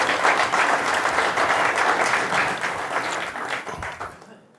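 Crowd applause rings out at a one pocket pool match between Danny Smith and Shane Van Boening, steady and dense for about four seconds before tapering off near the end.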